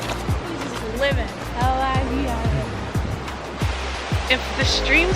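A powerful rushing stream being crossed on a nature hike, with steady loud water noise throughout and footsteps or splashes repeating rhythmically, while voices talk briefly over it.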